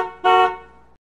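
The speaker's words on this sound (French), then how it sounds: "un véhicule derrière elle s'impatiente et klaxonne pour qu'elle s'insère plus vite" A car horn gives a single loud, impatient blast at a roundabout, holding briefly before fading out.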